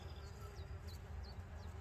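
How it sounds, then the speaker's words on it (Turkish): A faint, steady buzz of wild bees hums in the background, with a few small bird chirps overhead, outdoors and fairly quiet. "Bunlar yabani arılar. Bal arısı değil."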